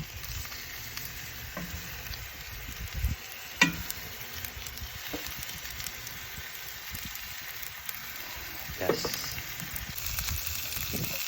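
Thick filet mignon steaks, reverse seared, sizzle steadily in a hot pan with a constant close frying hiss and a few brief louder spits as the steaks are moved.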